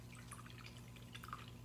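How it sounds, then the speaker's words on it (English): A small paintbrush swished in a water jar while painting a ceramic sloth bank, giving soft close dripping and sloshing splashes over a steady low background hum. "now I'm going to swish this in the water"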